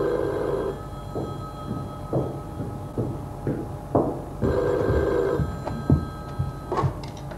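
A telephone rings in repeated bursts while a call is placed, with steady electronic tones sounding near and fairly loud, no talk over it.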